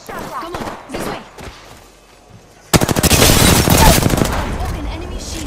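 Rapid automatic gunfire from the Apex Legends video game bursts in loudly halfway through, a dense fast volley that keeps going to the end, after a quieter stretch of game sounds and faint talk.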